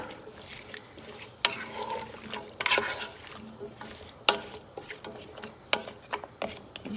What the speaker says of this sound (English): I'm just going to stir this up so they all get the oil stuff on them